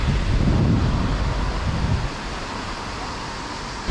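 Water rushes over a weir on a river in Berat, Albania, making a continuous broadband roar. Wind buffets the microphone, louder during the first two seconds, and no one speaks.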